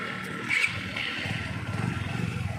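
Suzuki GR150 motorcycle engine running, a low steady rumble with a slight rise in the middle, with a voice speaking over it.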